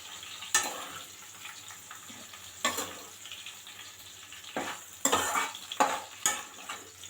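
Chopped tomatoes and tamarind sizzle softly in a pan as a spoon stirs and scrapes in scattered close strokes, with a steady low cooking hiss between them and no talk.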